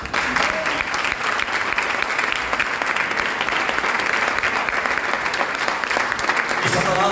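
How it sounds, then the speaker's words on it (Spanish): A church congregation claps for the Lord in a loud, steady wave of applause filling the whole sanctuary during a Spanish-language sermon. "Dale un aplauso al Señor."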